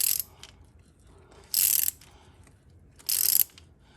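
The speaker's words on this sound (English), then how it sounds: "And it's cutting threads." Tap cutting threads into a Ford 641 WorkMaster tractor hydraulic tube with plenty of oil, heard as two short, sharp bursts of bright metallic scraping over a faint low background.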